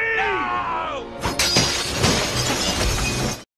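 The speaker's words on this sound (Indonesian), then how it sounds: "melempar kaca itu. Di saat kaca itu pecah" A glass mirror thrown and shattering in a Spider-Man film scene, a loud sudden crash of breaking glass followed by a sustained spray of tinkling shards, after a brief tonal sound at the start.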